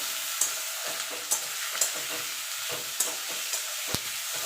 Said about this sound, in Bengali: এবার এটাকে ভালো করে একটু ভাজা ভাজা করে নেব